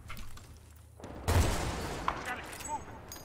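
Gunfire bursts in the Battlefield Bad Company 2 campaign, a heavy crack near the start followed by scattered shots and debris noise, loud and close, with a voice speaking in the background.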